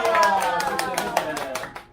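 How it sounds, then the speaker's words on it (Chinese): A small group claps at a birthday celebration, a scattered run of individual hand claps mixed with voices talking and someone speaking over the top. "掌声鼓励一下。"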